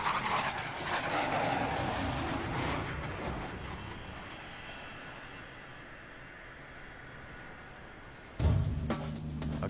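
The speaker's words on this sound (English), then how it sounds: "these F/A-18 pilots can't rest until they bring their aircraft safely to a stop" An F/A-18 fighter jet lands aboard an aircraft carrier, a loud broadband jet roar that slowly fades, then a sudden heavy thump and rumble near the end as the aircraft touches down and stops.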